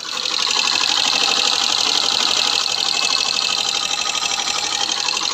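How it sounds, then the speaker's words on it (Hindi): A Hero Passion Pro BS6 motorcycle engine runs with a fitted engine part, giving a fast, even mechanical ticking and chatter heard up close, steady and loud throughout. "तो चलिए सबसे पहले इंजन की साउंड सुनते हैं।"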